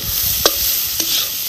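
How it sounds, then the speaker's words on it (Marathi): Roasted peas are stirred and sautéed in a pan for a village-style pea curry, with a soft continuous sizzle broken by two distinct scraping strokes of the spoon, close and clear. "आता हे आपण वाटाणं भाजलं होतं ना, ते ह्याच्यात टाकायचं आणि ह्याचा सगळा एकजीव करून चांगलं असं का नाही परतायचं"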